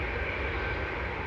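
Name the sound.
TUI airliner departing Manchester Airport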